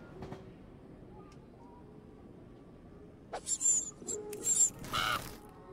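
Birds in the video game Jazzpunk give a cluster of high, squeaky chirps and sharp calls that start after a quiet stretch of faint ambience. They come in a few close, fairly loud bursts near the end.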